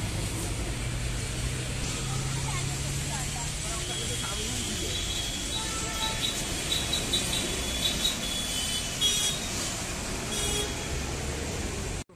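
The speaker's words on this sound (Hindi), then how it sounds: "पैर में इतना ज्यादा ट्रैफिक।" Dense roadway traffic noise on Park Street, Kolkata, a steady roar of engines and tire hiss with scattered horn toots throughout, busy and close.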